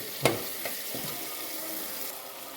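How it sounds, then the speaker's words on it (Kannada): Tomato bath mixture with green peas frying in a pan, a soft steady sizzle running throughout with a few faint clinks of stirring near the start. "ಚೆನ್ನಾಗಿ ಫ್ರೈ ಮಾಡಿಕೊಳ್ಳಿ"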